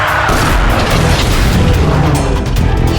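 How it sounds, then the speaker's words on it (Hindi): Loud cartoon micro missile explosion in an animated car-race series, a dense, sustained booming blast with rumbling low end that fills the whole moment. "माइक्रो मिसाइल, आक्रमण!"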